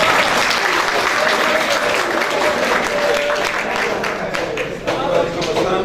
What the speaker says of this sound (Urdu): کلیپ کیجیے اس کے لیے